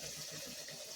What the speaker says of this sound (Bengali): এই যে এবার আমরা জল দিয়ে দেবো।